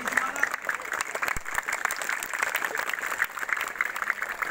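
Sustained applause from a crowd at a school youth Red Cross first-aid demonstration, dense clapping from many hands holding steady for several seconds, somewhat distant, with voices faintly underneath.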